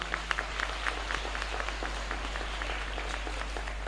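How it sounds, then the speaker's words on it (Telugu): A church congregation at a novena mass claps together in a steady rhythmic beat, loud and regular throughout, over a low constant hum from the hall's sound system. "గట్టిగా చప్పట్లు కొడదామా?"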